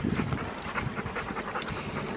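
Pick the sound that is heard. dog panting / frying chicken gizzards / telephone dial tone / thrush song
dog panting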